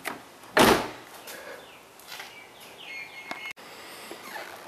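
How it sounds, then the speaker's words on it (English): A Mercedes E500 car door shuts with a single loud thump near the start, followed by faint background sounds and soft ambient noise. "Okay, let me close this door just for the heck of it."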